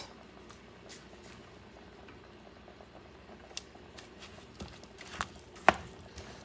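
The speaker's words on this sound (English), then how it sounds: "Just let it simmer, okay?" Elk stew simmers gently in a pot, a soft continuous bubbling bed with scattered faint pops and a few sharper clicks toward the end, quiet and close with no talking.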